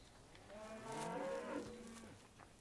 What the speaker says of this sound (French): y en a plein des vaches